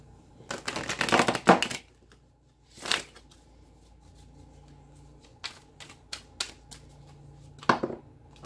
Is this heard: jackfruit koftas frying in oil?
no